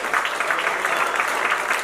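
A church congregation clapping in praise during a Spanish-language service, a dense steady patter of many hands heard close and continuous for the whole short stretch.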